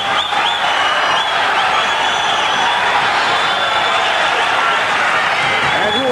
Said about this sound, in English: The hand clapping and the whistling.